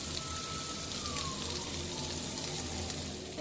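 Potatoes fry in butter in a pan, a dense, even sizzle crackling steadily throughout, close and moderately loud, with no talk.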